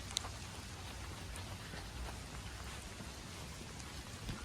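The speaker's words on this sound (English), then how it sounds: "It's just raining." Rain falls outdoors in New England woodland near a high rocky ledge, a faint, even, continuous hiss of drops with occasional slightly louder patters and no voices.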